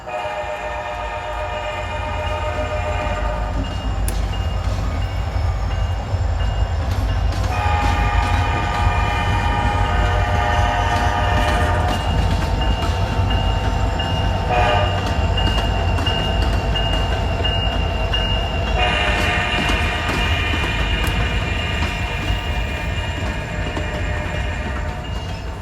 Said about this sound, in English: These are helper locomotives returning to Asheville